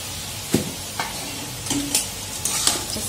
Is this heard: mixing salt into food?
yes